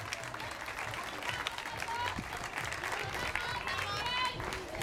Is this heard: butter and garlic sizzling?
no